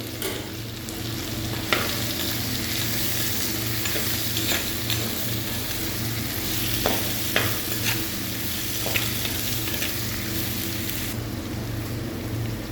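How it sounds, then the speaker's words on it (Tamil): Onions frying with rock salt in a pan, stirred steadily, a loud continuous sizzle with scraping spoon strokes and occasional sharper clinks against the pan, close up and without voices. "உப்பு சேர்த்து நல்லா கிண்டி விட்டுருக்காங்க."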